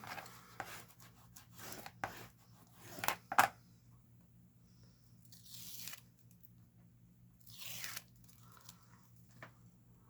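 Craft tape being torn and rubbed down while making a Halloween junk journal, a few sharp ripping strips and soft crinkling scrapes at close range in a quiet room.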